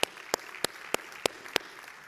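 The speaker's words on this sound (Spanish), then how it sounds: "dale un fuerte aplauso al Señor" Congregation in a church clapping in slow, evenly spaced single claps, six sharp hand claps over about two seconds against a quiet room background.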